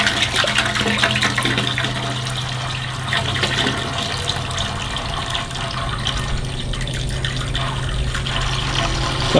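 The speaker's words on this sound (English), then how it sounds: "I'm gonna go fill the rest up with water" Water runs steadily and loudly from a tap or hose into a large pot being filled to boil deer skulls for European mounts, a continuous rushing splash with no talk.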